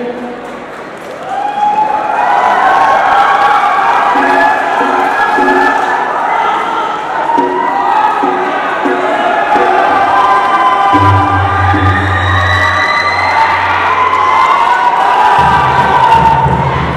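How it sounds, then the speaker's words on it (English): A large college crowd cheers, shouts and claps continuously at a cultural performance event, loud and dense throughout, with children's high voices in the mix and low thumping beats near the end. "Please clap a big hand."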